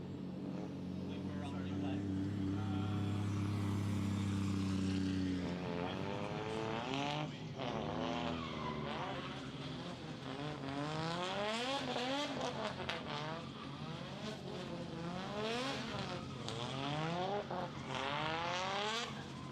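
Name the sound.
drift car with CA18 engine sliding, tires squealing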